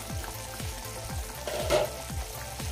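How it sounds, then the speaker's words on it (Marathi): Curry boils in a pot after two glasses of water are added, giving a steady, close bubbling hiss. A regular low thumping rhythm runs under it, with no voices. "मस्त उकळी आली आहे।"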